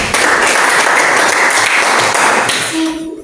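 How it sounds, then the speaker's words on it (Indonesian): Loud, dense applause from a classroom of students for group 3, steady and close for about three seconds before quickly dying away. "Tepuk tangan untuk kelompok 3."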